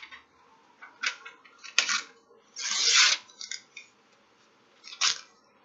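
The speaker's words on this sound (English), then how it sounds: "That was some bad ripping" Magazine paper ripped in short bursts, several quick close tears separated by pauses, with one longer rasping rip in the middle, all fairly quiet and without talk.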